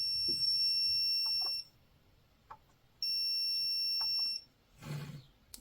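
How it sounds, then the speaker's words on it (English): An HGL-400 double-pole 12V–400V AC/DC voltage tester's buzzer gives two shrill, steady tones, each lasting about one and a half seconds, separated by a quiet gap; faint clicks fall between them and a brief rustle comes at the end. "it's a buzzer."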